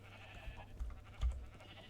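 Sheep in the video game Minecraft let out a few short, faint bleats in quick succession, with no talking.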